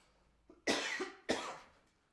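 Two sharp coughs in a quiet courtroom setting, the first about a third of a second in and the second half a second later, each fairly loud and close with a brief trailing tail, no talk around them.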